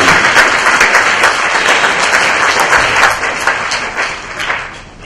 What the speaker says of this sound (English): Let us give them a really nice round of applause